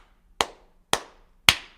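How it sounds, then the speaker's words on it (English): Three sharp, loud hand claps spaced about half a second apart, each ringing briefly in a room before dying away, with nothing else around them. "That last clap."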